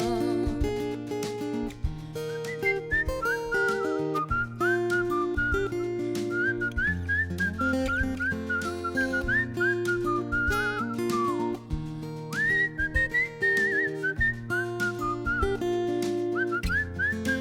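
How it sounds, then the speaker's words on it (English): A person whistles a lilting melody over a steady instrumental backing at a performance, the tune bright and continuous throughout. "the lost art of whistling"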